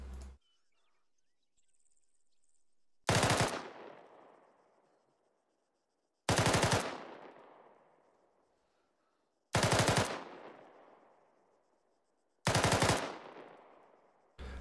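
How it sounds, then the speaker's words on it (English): An M249 SAW machine gun fires short bursts of three to five rounds, four loud sharp bursts spaced about three seconds apart, each trailing off in a ringing echo, with faint insect chirps between. "a sustained rate of fire for the saw is a 3 to 5 round burst every 2 to 3"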